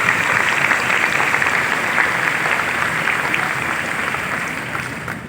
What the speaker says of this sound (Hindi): एक बार जोरदार तालियां अपने टीचर्स के लिए।